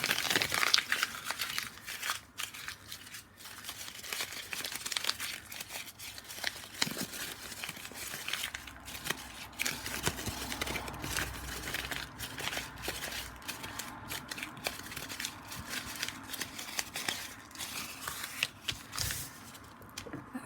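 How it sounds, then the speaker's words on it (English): Quiet paper crinkling and snipping while scissors trim a sheet of craft paper to a straight edge, a steady run of soft cutting and rustling sounds close by with no talk. "I'm going to cut a straight edge on here so I can use the punch"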